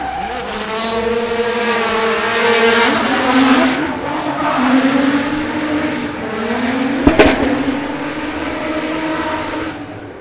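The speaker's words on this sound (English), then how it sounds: "It's Ilya's backup car. VR38, R35 engine, 600 odd horsepower." A drift car with a Nissan VR38 R35 engine of about 600 horsepower makes a qualifying run at an RDS GP round in Sochi: a loud, sustained engine roar rising and falling through gear changes, with tire squeal throughout and a sharp burst near the end.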